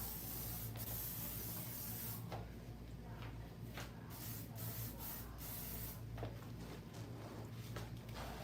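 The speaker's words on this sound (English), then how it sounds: "I'm gonna spray her with a little bit of hairspray" Hairspray hisses from a can onto fine salt-and-pepper hair in a salon, a near, continuous airy spray lasting several seconds with brief pauses between pulses.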